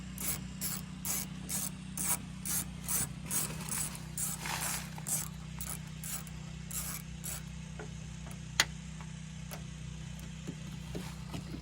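A ratchet removing door bolts on a 2003 6.0 PowerStroke truck: rapid rhythmic clicking in repeated strokes, close over a low steady hum, then a couple of sharp metallic knocks.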